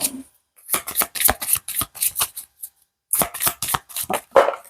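Tarot cards being shuffled make quick bursts of crisp riffling and flicking, close and clear, in two runs separated by a brief pause.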